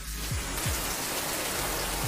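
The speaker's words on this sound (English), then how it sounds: "but look at the rain" Rain falls outdoors as a steady, dense hiss, with a few low thumps and brief swooshes scattered through, and nobody speaks.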